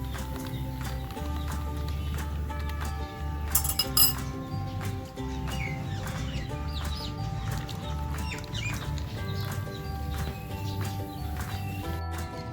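A spoon clinks rhythmically against a glass while mint Tang juice powder is mixed, the repeated light taps running steadily over a humming background.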